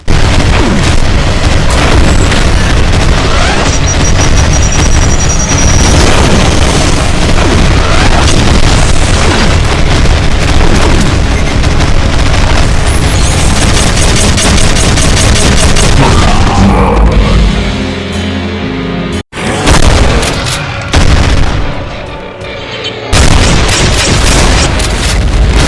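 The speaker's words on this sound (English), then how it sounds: "A massive spread of explosive minigun shots that never stop until you either kill it or get out of its line of sight." Cyberdemon firing explosive minigun shots in a DooM mod, a relentless loud barrage of rapid blasts and booms that stops briefly, then resumes with scattered heavy explosions.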